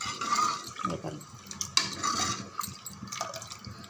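Lentil cooking water poured into a pot of tomato sambar, a soft close trickle and splash of liquid with light clinks of the vessel, brief and fairly quiet.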